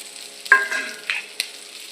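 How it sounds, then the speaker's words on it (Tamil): Peeled onions and curry leaves sauté in a pan, a soft background sizzle broken by a few sharp scrapes and clinks of stirring utensils against the pan. "இதில் உரித்து வச்ச வெங்காயம் போட்டு நல்லா வதக்குங்க."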